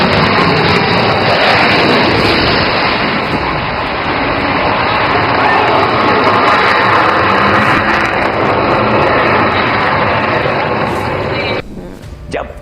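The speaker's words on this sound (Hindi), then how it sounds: "किस तरह से भारतीय वायुसेना के लड़ाकू विमान गरज रहे" Indian Air Force fighter jets roaring in a steady, loud, sustained engine rumble that holds for about eleven seconds, then cuts off abruptly near the end.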